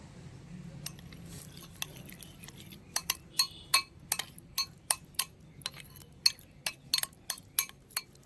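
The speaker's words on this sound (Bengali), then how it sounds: "এরপর একটি বাটিতে আমি 4-5 চামচ টক দই আর 2 চামচ তেল দিয়ে ভালো করে মিশিয়ে নিচ্ছি।" Yogurt and oil being mixed in a bowl with a spoon, heard as a run of sharp, fairly regular clinks of spoon on bowl, quiet at first and then quickening into a steady rhythm.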